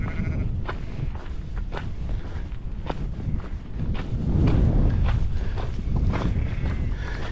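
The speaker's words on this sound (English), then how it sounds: "You can tell they're Nordic sheep by the red dots on them." Sheep on open upland moorland along the Pennine Way, several bleats sounding at moderate distance over wind and rustling footsteps, with no talk.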